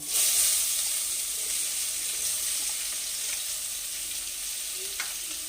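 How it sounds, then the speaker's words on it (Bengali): Onions frying in hot oil with a steady bright sizzle, close and fairly quiet, louder for the first moment and then settling, with a couple of faint stirring clicks and no voices. "আর একটু আমি তেল দিয়ে দিচ্ছি ওর মধ্যেই পেঁয়াজগুলো দিয়ে দিচ্ছি"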